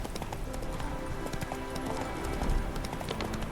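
A horse in the video game Witcher 3: Heart of Stone, spooked by ghosts, clops its hooves in a steady quick rhythm at close range, with busy background game noise and no clear whinny.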